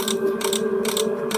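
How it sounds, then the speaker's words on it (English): Winding of a music box in the video game Five Nights at TubbyLand, a steady mechanical ratcheting crank with bright clicking bursts repeating in a regular rhythm, fairly loud and alone. "Oh, I gotta get the music box wound up."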